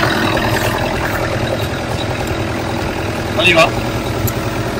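A tracked machine's engine turns over and settles into a steady mid-low idle rumble close by, with a brief louder burst near the end and a voice speaking over it.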